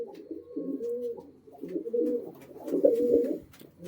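Tail-feathered fancy pigeons, including a hen, coo softly at close range in low, throaty rolling phrases, three or four bursts separated by short quiet gaps.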